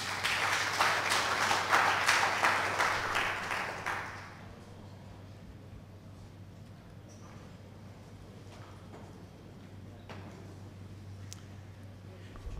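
Applause from a business conference audience at a renewable energy event, dense clapping for about four seconds that quickly fades out, leaving a quiet room with a low steady hum.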